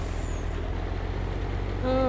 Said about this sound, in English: Put on brakes.